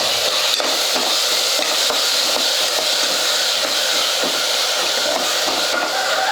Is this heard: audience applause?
no